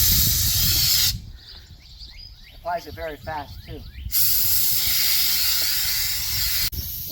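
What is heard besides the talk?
Alspray siphon gun spraying liquid wax onto a jet ski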